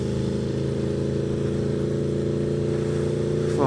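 An Aprilia RSV4 Factory motorcycle engine runs with a steady, loud, close mechanical drone, holding an even idle throughout with no voices.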